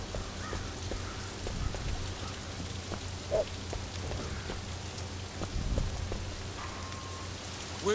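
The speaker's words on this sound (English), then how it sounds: "And it's raining too." Steady rain pours over a night city street in the Sleeping Dogs action game, a constant hiss with a low rumble beneath and occasional sharper drips or knocks, no talking heard.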